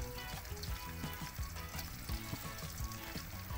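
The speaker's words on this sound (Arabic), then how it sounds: "احنا دلوقتي بنشوحها في السمنه البلدي والزيت" Kofta sizzling and frying in native ghee and oil over a clay stove, a steady close hiss with crackling pops and occasional stirring clinks throughout.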